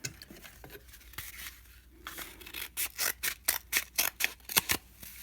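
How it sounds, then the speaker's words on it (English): Scissors cutting through a squashed cardboard toilet paper roll, a run of about ten crisp, evenly spaced snips growing louder toward the end, close and with no talking. "I just squish it in half and then cut it in half."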